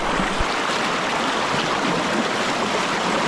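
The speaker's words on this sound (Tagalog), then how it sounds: "malakas ang agos" A strong river current rushes over rocks in a stony riverbed, a loud, dense, continuous roar of water close by with no pauses.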